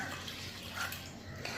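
Water is poured into a pot holding jackfruit seeds, a faint, steady splashing trickle close by with no talking.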